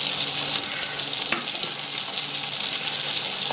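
Mixed grill meat sizzles steadily in a pan in its own juices, a close, continuous frying hiss with one brief louder crackle partway through.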